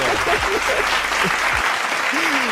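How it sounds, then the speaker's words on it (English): A group of people clap steadily and densely throughout, close and fairly loud, with a few voices calling out over the applause. "hey, clap it up for me, Sadiqo."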